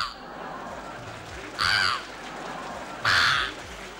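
A stage performer imitates a crow with his voice, giving two short nasal caws spaced about a second and a half apart over a hushed room.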